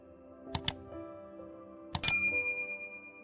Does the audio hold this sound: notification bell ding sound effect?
yes